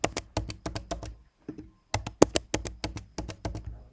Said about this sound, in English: Let me type out my name and email